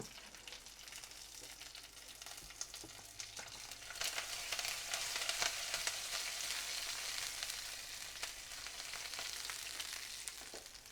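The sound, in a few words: stirring semolina into boiling water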